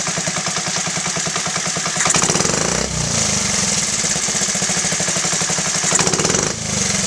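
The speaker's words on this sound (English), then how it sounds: "So it does bog a little bit." Honda Z50A minibike engine revving unevenly and bogging as throttle is applied on a test ride after a carburetor clean, a close, steady buzzing putter that swells and sags a couple of times.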